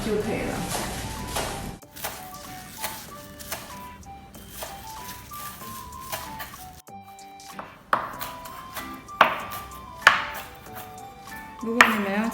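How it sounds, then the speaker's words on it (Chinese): A knife chops spring onions into small pieces on a board, a run of quick taps that grows sharper and louder toward the end, with background music playing throughout. "葱呢需要将它切丁就可以了"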